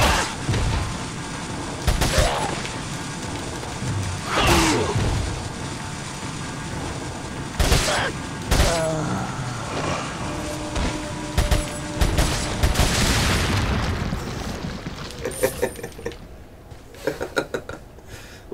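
Gunfire and blasts from Resident Evil 4 on PS4 ring out in repeated bursts, loud and close, mixed with clattering game effects over roughly the first fifteen seconds before thinning out.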